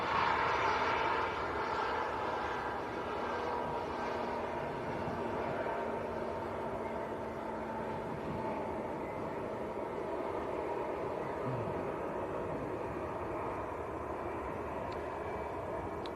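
An easyJet passenger jet at Manchester Airport, its broad engine roar steady and fairly distant throughout, with no talk over it.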